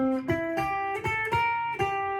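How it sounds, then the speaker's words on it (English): A short blues lick from measure 11 of a 12-bar blues study, played on guitar as a quick series of plucked notes with a clear, close, bright tone, heard alone. "the lick in measure 11 can be practiced 2 ways"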